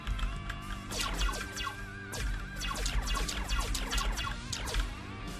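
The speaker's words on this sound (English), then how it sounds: "Or a beam sound," Beam-style key feedback from a ROCCAT Suora gaming keyboard gives a series of quick, watery, dripping zaps, each falling in pitch, fired off in irregular bursts at close range.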